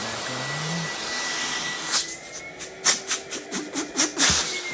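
A Filter Queen D31x canister vacuum runs in tool mode with a steady airy whine, close by and fairly quiet. From about two seconds, a series of sharp suction bursts pulse in an irregular rhythm.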